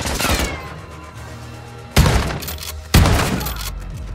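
In the Modern Warfare 2 video game campaign, a grenade lands and goes off as two sharp heavy blasts a second apart, over a rumbling background of game sound.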